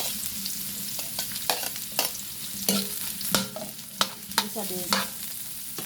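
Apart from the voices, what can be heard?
onions frying in a pan for mussel soup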